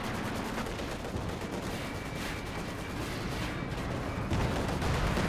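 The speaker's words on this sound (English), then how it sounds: "Right in the Katusha barrage" Katusha rocket barrage in a real-time strategy war game, a dense, continuous rumble of rapid explosions and gunfire, with a sharper burst of blasts near the end.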